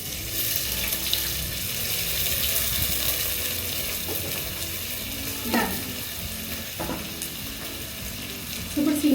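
Sliced onions and green chillies frying in hot oil, a loud, dense, continuous sizzle close by, with a few clinks of a stirring utensil toward the end.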